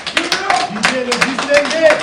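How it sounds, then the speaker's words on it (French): Studio audience clapping to welcome an arriving guest on a Quebec interview show, steady dense applause with voices over it. "on va l'applaudir pendant qu'il arrive"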